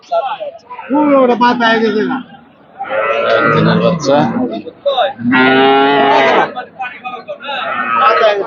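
A Friesian dairy cow at the Hazratpur cattle market moos in long, loud, drawn-out calls, with nearby voices talking between them and market chatter in the background.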